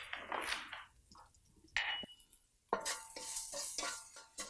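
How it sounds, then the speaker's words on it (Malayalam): Onion, dried red chilli and curry leaves sautéing in a pan, with uneven bursts of crackling sizzle broken by spoon scrapes and clinks against the metal, quiet gaps between them. "നമ്മൾ കട്ട് ചെയ്ത് വെച്ചിരിക്കുന്ന വറ്റൽമുളകും 1 തണ്ട് കറിവേപ്പിലയിട്ട് വഴറ്റുക"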